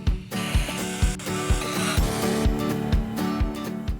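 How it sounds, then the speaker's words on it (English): Steady, rhythmic ratcheting and scraping of a hand tool working bolts loose on an Ineos Grenadier, with regular strokes repeating about twice a second, close and fairly loud throughout. "And we're going to go ahead and get these bolts out."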